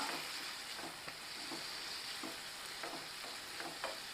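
Small prawns stirred into a pepper masala thokku in a pan, a steady frying hiss with soft scraping spoon strokes recurring every half second or so, no voices.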